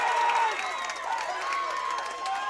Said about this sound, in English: Listen to the crowd for both these teams, man.